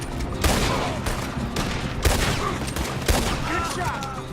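Rapid volleys of gunfire from the Western video game Red Dead Redemption 2, several loud sharp shots ringing out over a busy mix of game noise with a voice speaking briefly.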